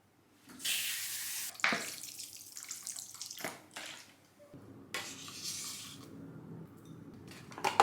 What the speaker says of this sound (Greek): τώρα θα τις ξεπλύνω, θα τους βάλω νεράκι